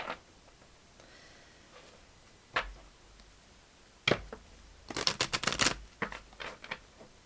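A deck of oracle cards is shuffled by hand, with a few soft isolated flicks early on, then a quick cluster of crisp, fluttering riffles near the end.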